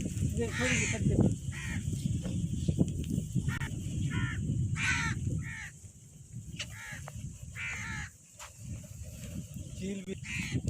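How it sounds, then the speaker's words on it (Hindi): Crows caw repeatedly while being fed beside a river, several harsh calls overlapping from near and farther birds over steady outdoor background noise, with people talking throughout. "फिर हमने सोचा अब कौवों को भी यहाँ पर खिलाया जाए। देखे कौवे कैसे आ रहे हैं।"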